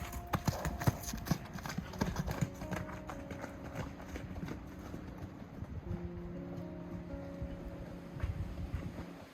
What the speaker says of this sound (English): I just showed you a clip of the horses running around like nuts